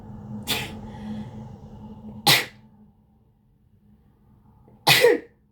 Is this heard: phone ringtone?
no